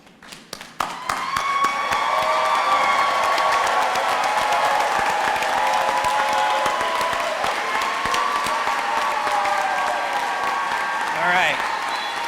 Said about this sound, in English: everyone stand and let's cheer on the graduates now.